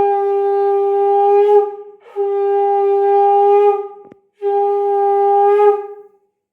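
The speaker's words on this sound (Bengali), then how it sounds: "ধূপকাঠি দিয়ে আসার পরে এই যে শঙ্খ বাজালো" A conch shell is blown at an evening household prayer in three long, loud, steady blasts, each about two seconds with a short break between, a pure droning tone heard close and alone.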